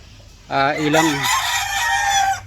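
Local banded roosters at a chicken farm, one crowing loudly and close by in a single drawn-out call, with fowl sounds from the flock and faint clucking around it.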